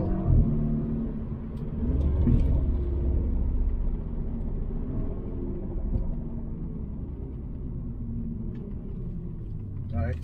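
A BMW F30 328i xDrive fitted with Dinan camber plates rumbles steadily through a corner, its engine and road noise a continuous low drone, with someone talking over it throughout.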